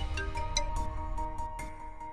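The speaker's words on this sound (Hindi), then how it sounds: "सिंह का फोन इस वक्त?" An incoming call sets a phone ringing with a repeating melodic ringtone, pulsing steadily and fairly close, with no one speaking over it.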